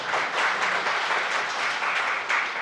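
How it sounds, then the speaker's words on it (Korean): An audience at a Seoul Metropolitan Council special committee forum applauds to welcome the committee chair, giving a sustained, even wash of clapping from a large indoor room. "위원장님을 큰 박수로 맞이하여 주시기 바랍니다."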